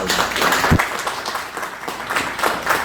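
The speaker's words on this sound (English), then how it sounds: "Okay, round of applause for that" Steady crowd applause fills the whole stretch, dense and continuous, with a single louder thump near the start.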